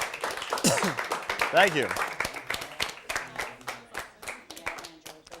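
Applause and clapping for a contestant at a Cherokee vs. Seneca quiz game, in sharp irregular bursts that run under an announcer's voice and a brief spoken thanks.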